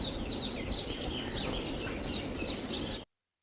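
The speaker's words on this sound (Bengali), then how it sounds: "মসজিদটির পাশে পাখির প্রচুর কিচিরমিচির আওয়াজ উপর দিকে তাকিয়ে দেখলাম তালগাছে" Dense, continuous chirping of weaver birds nesting in palm trees beside a village mosque, many overlapping calls filling the air at close range for about three seconds before cutting off.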